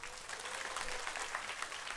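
An audience at a closing worship service gives a staff member a round of applause, a faint, distant, even patter of many hands clapping continuously.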